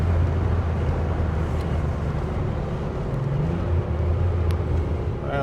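A 1978 Porsche 911 SC Targa heard from the passenger seat, its engine droning and road rumble rolling continuously and fairly loud throughout, with no one speaking.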